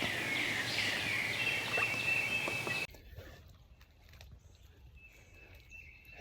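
Distant wild turkey gobbling on Georgia public land during a hunt, a couple of faint rattling gobbles at the start, then a quiet outdoor stretch with light rustling.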